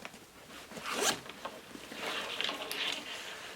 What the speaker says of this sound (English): And as I did mention, heavy-duty dual zippers.